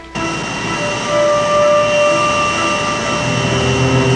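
An aircraft engine roars at full throttle for takeoff in a film scene, a loud, steady high whine and rumble that swells slightly and holds without pause.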